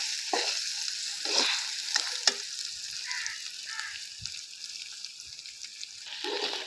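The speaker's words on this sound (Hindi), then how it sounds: "अब अदरक लहसुन का पेस्ट है मेरे पास तकरीबन 2 चम्मच, इसे भी थोड़ा सा भून लेंगे" Ginger garlic paste frying with onions in a pan for a chana dal karela dish, a steady soft sizzle broken by several scraping stirs of a spoon, close and moderately quiet.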